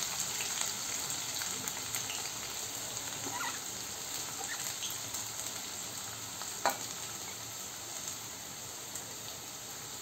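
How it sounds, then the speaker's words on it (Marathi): Two large chopped onions frying in hot oil in a pan make a steady, even sizzle, close and fairly quiet, with one brief utensil tap partway through and no speech. "आता कांदा आपण छान लाल परतून घेऊया"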